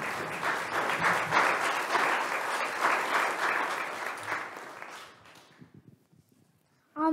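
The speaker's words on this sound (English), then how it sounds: "let's give a warm round of applause of welcome to our" An audience at a piano recital applauds to welcome three young sister performers, a dense, loud burst of clapping that dies away after about five seconds, followed by a brief voice starting to speak.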